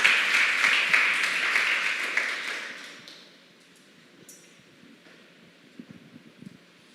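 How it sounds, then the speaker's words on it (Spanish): A church congregation applauds during a service, dense sustained clapping that fades out after about three seconds, leaving quiet room tone with faint scattered sounds. "Dale un aplauso al Señor."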